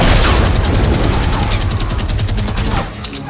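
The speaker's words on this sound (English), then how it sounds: "let's mow these zombies down with a chain gun" A chain gun fires in rapid, continuous bursts at zombies in the video game Fortnite, loud and dense throughout with booming low rumble underneath.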